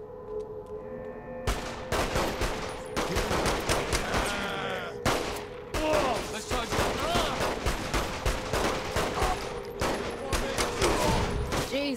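Heavy gunfire in Saints Row: The Third: dense volleys of sharp shots and automatic bursts crackle almost without pause, loud and close, with a steady tone humming underneath and voices talking briefly between the shots.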